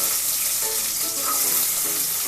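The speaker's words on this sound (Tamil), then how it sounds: "எண்ணெய் விட்டு சின்ன வெங்காயத்தை முதல்ல போட்டு" Shallots sizzle and crackle in hot oil in a pan, a steady bright frying hiss up close with no talking, while cooking sambar.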